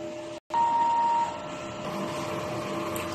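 A DTF printer runs a print head cleaning cycle, giving a steady mechanical whir with a brief cutout near the start and a faint tonal whine, close by with no talking.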